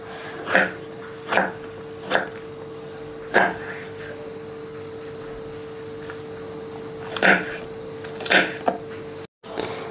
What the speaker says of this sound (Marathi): टोमॅटो बारीक करून घेऊयात।